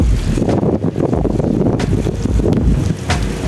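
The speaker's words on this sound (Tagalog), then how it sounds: "Pero umuulan. At ang lakas ng hangin." Strong wind buffets the microphone in midday rain on a bike ride, a loud continuous roar with gusty bursts and rumbling low-end noise throughout.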